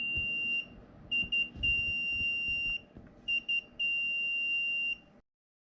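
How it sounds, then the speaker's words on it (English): A Fardriver ND721800 motor controller emits a series of loud, high electronic beeps in short groups with brief pauses between them, then falls silent, with no voices. "your controller will go from 7 beeps down to 3 beeps"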